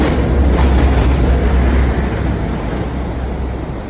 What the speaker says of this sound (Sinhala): දැන් මේ එන්ජින් එක තමයි මේ එන්නේ.